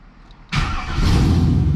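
A car engine cranks and fires up right after an oil pressure sensor repair, then settles into a close, steady idle with a firm low rumble.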